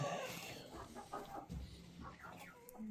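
Chickens cluck and murmur inside a coop at feeding and egg-collecting time, a busy close chorus of short calls with some rustling throughout.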